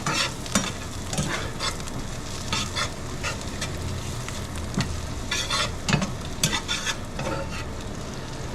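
Pasta ingredients of soppressata, artichoke and sundried tomato frying in butter in a pan, stirred with repeated scraping strokes over a steady bright sizzle, close and moderately loud with no talking.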